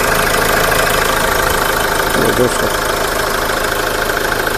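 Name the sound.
Mahindra XUV500 W8 engine idling, engine beat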